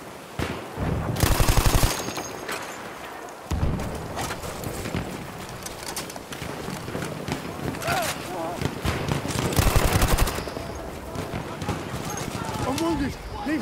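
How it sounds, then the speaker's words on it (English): Enemy machine gun fire on the Passchendaele map in Battlefield 1, rattling in two sharp, loud rapid bursts amid scattered battlefield gunfire, with soldiers shouting over the action. "There's an enemy machine gun!"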